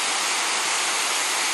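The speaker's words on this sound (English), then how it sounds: "Finally reached the first fall of the Sandiaoling waterfall trail" The first fall of the Sandiaoling waterfall trail in Taiwan roars nearby, a loud, continuous broadband rush of crashing water filling the scene with no voices.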